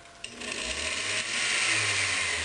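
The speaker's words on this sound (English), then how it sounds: "My secret ingredient is this 1950s blender." A 1950s vintage blender runs steadily while mixing a kefir smoothie, its motor whirring loud and continuous after a brief start-up click, with no talk over it.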